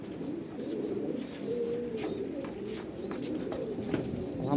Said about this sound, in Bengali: এই হলো সারা ঘরের কবুতর